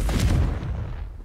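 A Confringo blast spell in Hogwarts Legacy goes off as a single loud, booming burst that hits hard at once and then fades over about a second.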